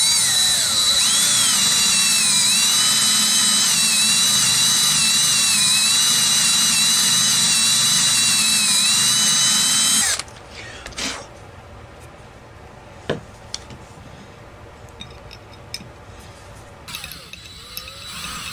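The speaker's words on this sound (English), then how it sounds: "I'm going to drill a starter hole." A power drill bores a starter hole into a maple plate fixture, a loud, steady high-pitched whine with wavering pitch for about ten seconds, then stopping, followed by quieter clicks, taps and handling noises.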